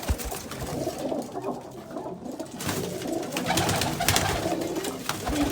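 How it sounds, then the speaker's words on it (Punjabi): Pigeons in a loft cooing close by, low rounded calls over a busy background with some rustling and patter, no talk heard. "ਵੱਡੇ ਕਬੂਤਰਾਂ 'ਚ ਆ ਪੱਠਾ ਉਸ ਗੁੜ ਰੰਗੀ ਕਬੂਤਰੀ ਦਾ"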